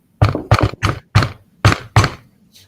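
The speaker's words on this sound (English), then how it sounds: "Where would you hear that type of knock?" A series of knocks on a door in uneven groups: two quick raps, a pair, a single, then two more, loud and close, with a fainter tap at the end.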